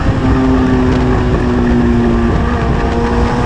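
A race car with a Hayabusa motorcycle engine howls at high revs while closing on and overtaking an Audi TT RS on a track. The engine note is loud and continuous with a steady pitch and a brief shift partway through.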